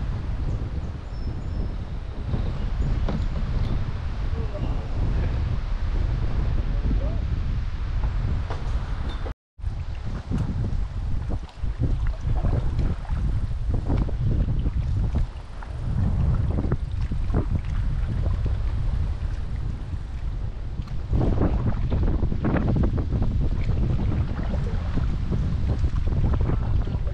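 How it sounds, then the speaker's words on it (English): Strong wind gusts batter the microphone on a river canoe trip, a loud continuous roar with brief dips and no voices. "Oh, the wind's a little crazy."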